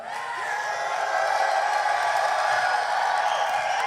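The QuakeCon crowd at the grand final cheers and whoops together as one loud, sustained roar of many voices that holds steady from start to finish.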